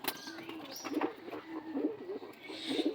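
Pet Madras pigeons coo in a home loft, a series of soft, throaty rolling coos repeating close by in a steady rhythm with faint background noise and no talk.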